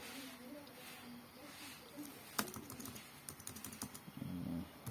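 Computer keyboard typing while entering office service data into finance software, a sparse cluster of light clicks arriving midway and continuing faintly beneath a quiet room hum and soft speech.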